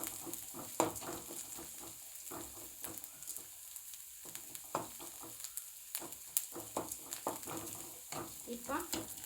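Green chillies and onions frying in oil for an egg dish, a steady sizzle with repeated stirring scrapes and clatters rising and falling throughout, close and moderately loud, no talk.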